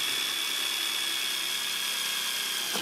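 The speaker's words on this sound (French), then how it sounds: "un foret d'un diamètre légèrement supérieur au diamètre du tube pour pouvoir faire un petit trou" A 15 mm drill bit bores a small hole in the plastic wall of a 1000-litre IBC water tank, a steady high-pitched power-drill whine running close and continuously throughout with no talking.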